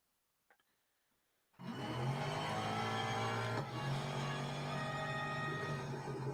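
Mercedes-Benz C11 race car engine in the Real Racing 3 video game, bursting into a loud sustained high-revving drone after a brief quiet start, with a shift in pitch partway through as it accelerates.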